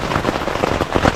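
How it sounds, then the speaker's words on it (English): Steady rain drumming on a tent during a night of camping in Ocala National Forest, a dense, even patter of close drops with no talking. "the rain has made it, and I'm here in the tent"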